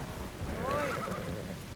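A single horse whinny in the video game Assassin's Creed Shadows, with a rising and falling pitch, heard clearly over a low rumbling background, lasting about a second.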